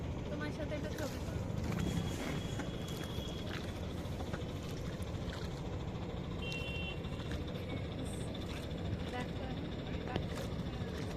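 A boat crossing the Ganga river at a ghat, a steady low engine drone with faint beeps and background noise, while people talk nearby.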